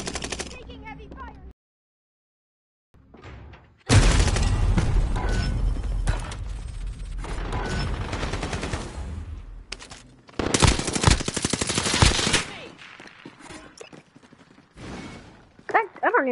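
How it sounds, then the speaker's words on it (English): Shotgun blasts in Warzone: after a short silence, loud, heavy bursts of firing and impacts fill several seconds, then pause and return in a second burst, with a voice talking in between. "See what this one shot gun is all about."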